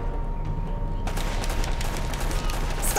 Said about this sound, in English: Stop shooting wildly! That's my job!